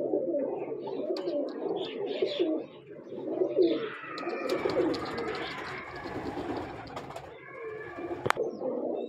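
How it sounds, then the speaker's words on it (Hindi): Purebred pigeons at a breeder's loft in Lahore coo softly and repeatedly, low rolling calls layered with faint chirps, fairly close and steady throughout without speech over them. "बहुत ही कमाल किस्म का कबूतर है"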